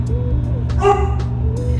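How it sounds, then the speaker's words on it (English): A pet dog barks and yips in the background, a few short tonal barks over a steady low hum, heard alone without talk. "that's my dog in the background there"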